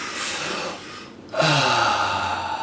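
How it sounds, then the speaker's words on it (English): A small group of people draw in one deep breath together and then let it out in a long audible exhale, close and clear, following a brief silent pause. "let's end on a deep breath"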